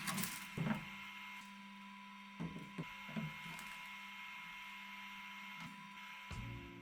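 An Elegoo Centauri Carbon 3D printer prints PETG filament, giving a steady mechanical hum with soft whirring and a few faint clicks and knocks of the moving head, fairly close and without speech.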